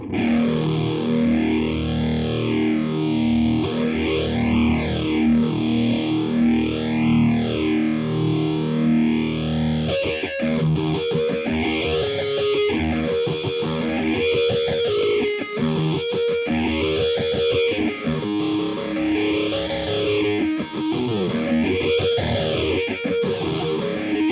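A distorted electric guitar on its humbucker pickup plays chords through fuzz and a Pastfx Jet Phaser pedal in low mode, the swooshing tone rising and falling in steady waves for a long stretch, loud and up close.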